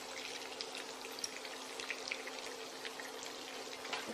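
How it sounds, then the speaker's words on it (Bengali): Ginger garlic paste frying in a pan for dry chilli chicken, a steady, even crackling hiss with small pops throughout, close and continuous with no talk. "একটু হালকা ফ্রাই করতে হবে আদা রসুন পেস্টটা।"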